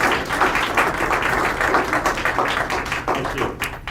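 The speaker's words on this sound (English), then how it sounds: "Keep clapping." Sustained audience applause after a formal presentation, a dense, even wash of many hands clapping close by, with no talking over it.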